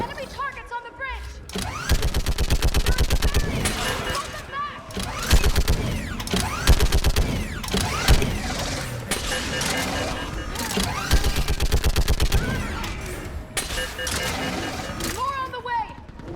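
Mounted gun fires in Mass Effect 3 Legendary Edition: a sustained stream of rapid, loud mechanical shots with a steady pulsing rhythm for most of the stretch, under shouted voices and battle noise.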